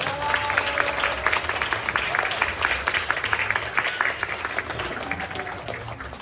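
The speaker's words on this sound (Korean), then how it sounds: "여러분 저와 함께 이 두 사람을 큰 박수로 축복해 주시기 바랍니다" Wedding guests in a hall applaud the newly declared couple; a full, steady round of clapping at moderate loudness, with a voice audible underneath that fades slightly toward the end.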